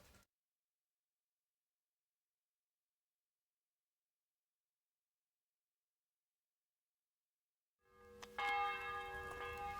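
A church bell in Kingdom Come: Deliverance II begins tolling after a long silence, one clear ringing strike with a long metallic hum that carries through the last couple of seconds.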